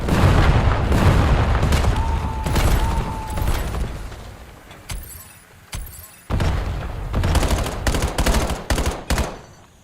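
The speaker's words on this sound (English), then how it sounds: "Inbound grenade! Inbound grenade!" Video game combat: loud bursts of gunfire and a heavy grenade blast up close, followed by scattered sharp shots and rapid fire in uneven clusters.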